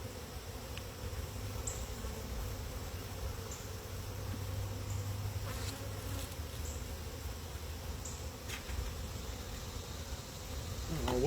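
Honeybees buzzing steadily around an opened hive during a split, with comb torn apart; a dense, continuous low drone of many bees close by, swelling slightly toward the end, no talking.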